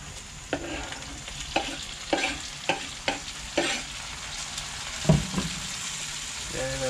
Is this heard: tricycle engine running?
no